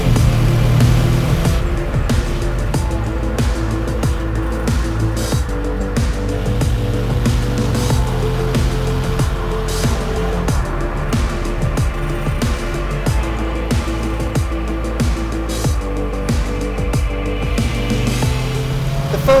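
A Lotus Elise Series 2, a lightweight mid-engine British sports car, drives with a steady engine drone and road roar heard from inside, its revs shifting throughout.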